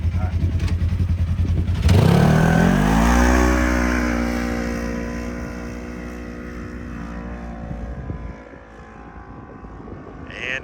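A Polaris RZR side-by-side, naturally aspirated, climbs a steep sand dune at Coral Pink Sand Dunes, Utah, its engine surging loudly then holding a strained, rising drone before easing off, with wind noise and brief talk around it.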